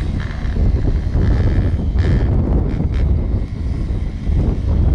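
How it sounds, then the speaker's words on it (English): Steady wind buffeting a microphone outdoors at a dirt bike track as a cold front blows in, a loud continuous low rumble with gusty swells throughout. "It is windy out here today"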